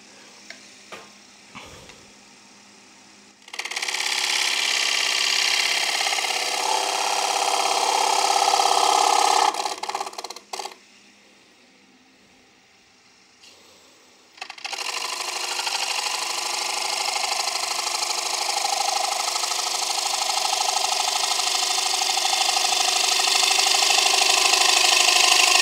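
A wood lathe turns a bowl, a loud steady whir as the tool cuts, with a quieter pause midway before cutting resumes, a rough buzzing chatter running through the cuts.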